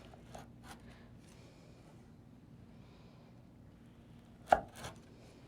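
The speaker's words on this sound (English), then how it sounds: "Cutting nicely through my almonds." A sharp knife slices through a baked almond biscotti log, two crisp crunching cuts near the end after a quiet stretch with a few light taps.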